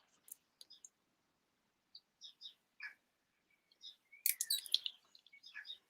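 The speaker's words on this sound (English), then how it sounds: "the sound of all the birds outside" Birds chirp and tweet in scattered short bursts, some close and bright, with quiet gaps between calls and a busier flurry toward the end.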